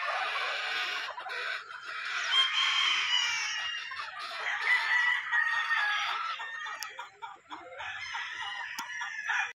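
Several gamefowl roosters crow and chickens cluck nearby at a game farm, overlapping calls continuing throughout with faint background noise.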